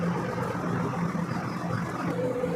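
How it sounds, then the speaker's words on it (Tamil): Construction work going on nearby makes a steady, moderately loud mechanical rumble with a faint low hum running unbroken throughout, and no voices. "பக்கத்தில் கன்ஸ்ட்ரக்ஷன் ஒர்க் நடக்கிறதுனால இந்த வாய்ஸ் என்னால் கண்ட்ரோல் பண்ண முடியாது."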